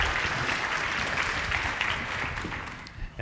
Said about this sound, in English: let's first give a big round of applause for a wonderful presentation